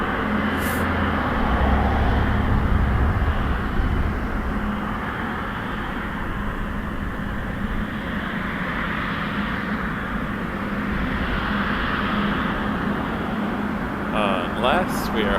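Steady, loud jet roar of a Boeing 777 freighter at Toronto Pearson airport, a broad continuous rumble sustained throughout with no talk over it.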